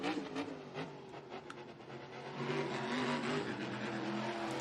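A monster truck engine with a failing transmission roars steadily at a distance, a dense continuous drone that swells louder toward the end, with no talking.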